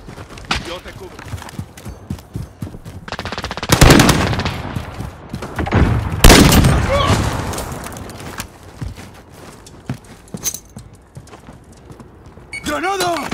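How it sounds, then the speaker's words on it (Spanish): Gunfire in a first-person shooter video game comes as loud bursts and single shots amid game effects, and several voices talk in Spanish throughout. "¡Me están disparando!"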